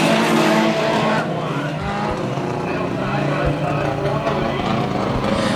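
Several small mini stock race cars roar around Bakersfield Speedway together in a heat race, engines loud and continuous, with revving swells and occasional tire noise; one car runs poorly; a commentator's voice runs underneath.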